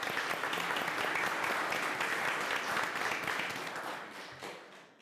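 Audience clapping at a school board meeting honoring students, a sustained even round of applause that holds steady and then tapers off over the last second.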